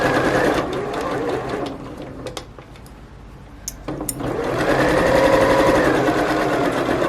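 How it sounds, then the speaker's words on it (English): A domestic sewing machine stitches a narrow fabric seam for bunting, running in a steady loud mechanical whir, pausing briefly in the middle before starting up again and running to the end. "So I'm just lining up my fabric to the edge of the foot there to do a nice narrow seam."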